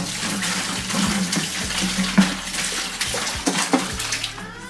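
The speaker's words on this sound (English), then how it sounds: "I'm going to add the rest of this hot water in here as well." Hot water pouring and splashing into a tub, a continuous gushing stream with small irregular splashes, close and fairly loud.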